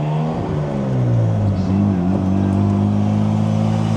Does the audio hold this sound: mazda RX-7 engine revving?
yes